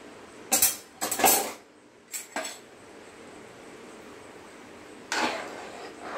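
Drained basmati rice tipped into a metal kadai gives a few quick clattering scrapes and clinks in short bursts, then a pause and one more rattle, fairly close with no talk.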